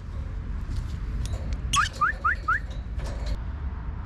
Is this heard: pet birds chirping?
yes